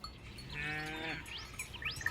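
A water buffalo on an Indian farm gives a long, deep moo close by, followed by quieter bird chirps and faint clanking in the background.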